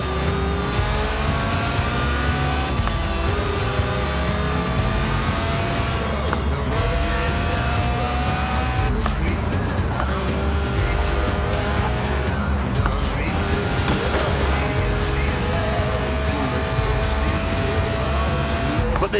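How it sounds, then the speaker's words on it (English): A Lotus Elise Sport 190, a stripped-out mid-engined rear-wheel-drive roadster tuned for track days, drives hard on a race track, its engine revving and shifting loudly and continuously with tyre squeal throughout. "the Lotus Elise, a 90s classic based on the age-old roadster recipe. 2 seats, engine in the middle, rear-wheel drive"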